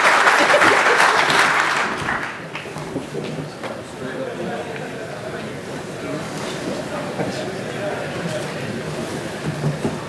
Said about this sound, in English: let's give him another round of applause if you don't mind